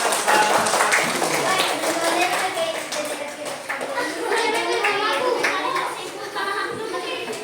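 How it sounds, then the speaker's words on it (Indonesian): Elementary school class of children clapping for a classmate group in the classroom, irregular uneven claps mixed with lively children's chatter and shouts throughout. "tepuk tangan untuk kelompok Bunga"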